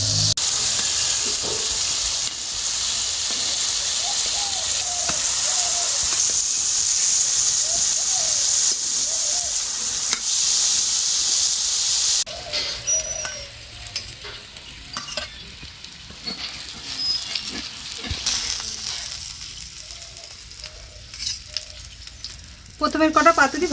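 Chuno fish paturi wrapped in bottle gourd leaves frying in a pan, a continuous close sizzle and hiss that thins out partway through, with occasional clatter, brief voices in the background and a sharp noise at the end.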